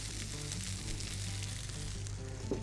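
An egg sizzling in oil on the low side of a grill, a steady soft frying hiss that runs throughout, faint and continuous with no voices.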